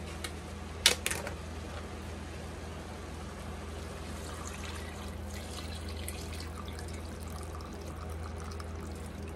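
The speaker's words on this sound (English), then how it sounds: "I've got my big old bag of chicken broth." Chicken broth poured from a bag into a pot: a brief splashing burst early on, then a steady, soft rush of liquid running on under a constant background hum.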